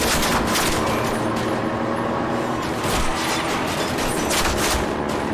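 Dense gunfire in a Call of Duty match, a loud, continuous barrage of overlapping shots and bursts with sharp cracks throughout, close and with no one talking.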